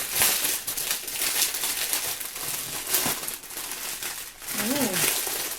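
Crinkling and tearing of tape and wrapping as a package is unwrapped up close, busy rustling throughout with a short vocal sound near the end.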